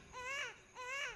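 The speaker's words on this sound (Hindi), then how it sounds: "बाहर कॉरिडोर में भी बच्चे के रोने की आवाजें आ रही थीं, पर हल्की सी।" A baby cries in a horror story, two wavering wails, each rising and then trailing off, soft and slightly distant over a quiet hiss.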